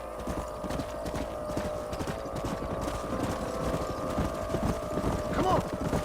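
Horses' hooves clip-clop steadily in the video game Red Dead Redemption, a continuous close rhythm over a low steady hum, with a brief whinny-like squeal near the end.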